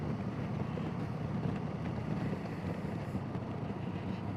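Motorcycle cruising in sixth gear on a local ride with a much bigger engine, its steady engine drone smeared with heavy wind rush across the microphone, continuous and unbroken throughout.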